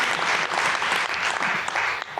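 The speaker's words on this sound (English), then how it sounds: "Go ahead and clap. I see you guys want to clap." Audience applause at a London mayoral candidate forum, a dense, steady clapping from a full room that runs loud and continuous for about two seconds.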